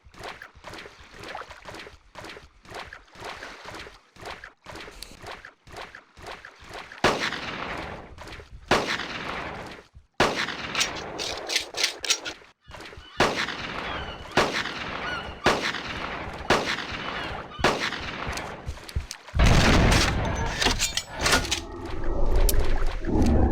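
Repeated gunshots from hunting weapons in the dinosaur-hunting game Carnivores Genesis, fired at a Carnotaurus: loud, sharp reports spaced irregularly across the scene amid outdoor ambience, with no talking.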